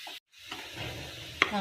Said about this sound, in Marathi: आपण या गुळला आता मेल्ट होऊ देऊ